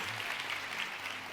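Applause from a church congregation rises across the whole moment, a steady, moderately loud patter of many hands clapping.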